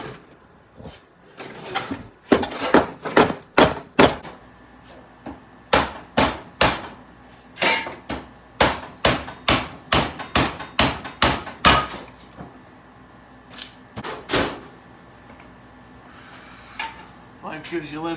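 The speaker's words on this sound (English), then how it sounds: "Hopefully with a few blows of the hammer." Sharp metallic hammer blows on a master cylinder from a Ford F100 Shortbed ring out in quick bursts, dozens of hard strikes with short pauses between volleys, close and loud.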